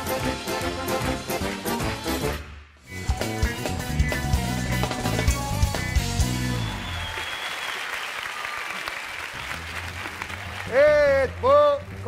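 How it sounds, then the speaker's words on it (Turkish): Studio audience on a Turkish TV talk show breaking into applause, dense clapping for a few seconds after loud program music, then a wash of crowd noise with some voices near the end. "Kocaman alkışlar sevgili BKM oyuncularına"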